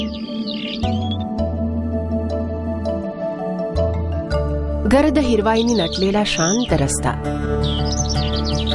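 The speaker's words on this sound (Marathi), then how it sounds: "पक्ष्यांचा किलबिलाट" Birds chirp and tweet in short high bursts along a quiet, leafy green road in the countryside, at the start and again near the end, under a steady tonal music bed and someone speaking.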